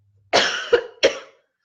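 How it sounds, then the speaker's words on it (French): Three quick, close coughs come in a tight cluster, dry and abrupt, with no talking around them. "j'essaie de vous préserver de ma toux"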